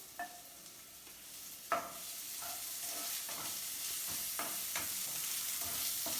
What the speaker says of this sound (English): Now let's add the onion. Okay, so let's saute it.